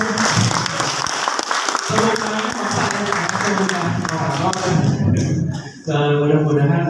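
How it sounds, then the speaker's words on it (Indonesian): Audience applause at a financial-literacy event in Karawang, West Java, with loud clapping running under a speaking voice, briefly dropping away, then resuming as the talk continues. "Tepuk tangan ya."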